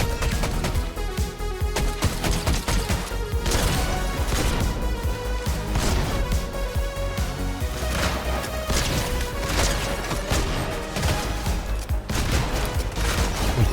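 Double pump shotgun fire in the video game Fortnite, with dense, continuous loud gunfire, crashes and impacts layered under a game soundtrack, relentless throughout.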